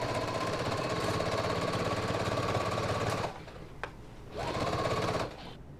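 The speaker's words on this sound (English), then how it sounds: "go ahead and start at your large dot and sew all the way down to the side of the pocket now" A sewing machine stitches a pocket seam on wide-leg pants, running steadily and close for about three seconds, stopping briefly, then buzzing through a second shorter run.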